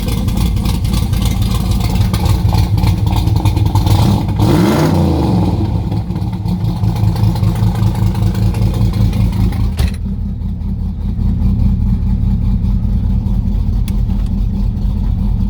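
A 1969 Chevrolet Corvette engine cranking and firing up, then settling into a loud, steady, throaty idle with a brief rev, heard close up with no talking.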